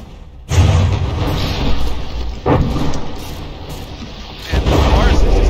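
Heavy battleship guns fire in the naval combat game From the Depths, with three deep booming blasts spaced about two seconds apart over a continuous rumbling background.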